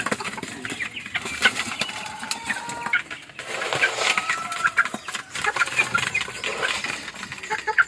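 Backyard chickens cluck and peck while eating a homemade corn-mixed feed, busy scattered clucks and sharp pecking ticks close by, with brief wing flutters and a short lull partway through.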